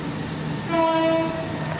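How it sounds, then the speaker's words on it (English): A passenger train on the River Medway line arriving at Paddock Wood station sounds a steady two-tone horn for about half a second, loud over the low rumble of the approaching train. "Because here comes my train."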